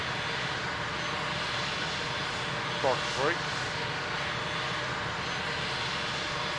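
Boeing 747 engines winding down in a flight simulator cockpit, a steady broadband roar continuing throughout, with a brief tonal sweep partway through and someone speaking over it.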